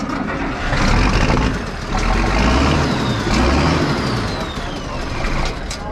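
A Case IH 1086 tractor engine runs steadily at a fall farm equipment auction, a loud low rumble that continues throughout while a voice talks over it.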